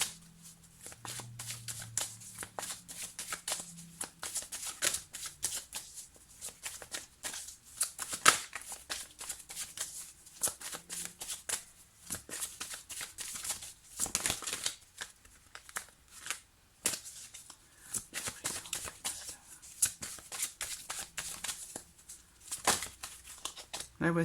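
Tarot cards being shuffled and drawn during a reading, with repeated short papery riffles and card snaps at close range, interspersed with speech throughout.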